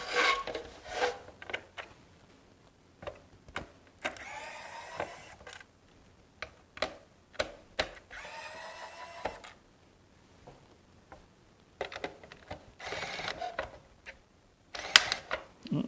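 Small screwdriver working screws out of a plate on an RC haul truck, with faint scattered scraping, ticking and rasping bursts separated by quiet pauses, close and soft.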